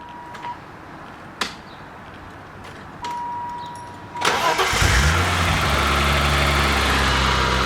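A BMW E30 barn find cranks and fires after sitting two years, a few clicks and a short crank before the engine catches and settles into a loud, rough, steady idle close by.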